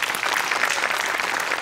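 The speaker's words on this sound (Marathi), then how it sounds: "तुझ्या अटेम्प्टसाठी टाळ्या." A studio audience at a Marathi comedy show breaks into dense, loud applause that holds steady without a pause throughout.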